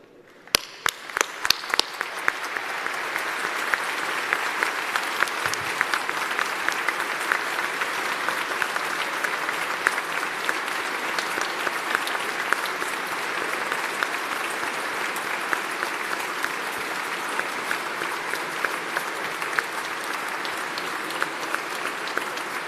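A church congregation at an international Mass stands and applauds mothers on Mother's Day, with a few sharp early claps building into long, steady, full applause that carries on evenly to the end.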